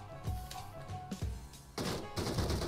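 Gunfire in the battle-royale game PUBG cracks out in several sharp shots, with a loud burst of rapid firing near the end, close and punchy over a low game hum.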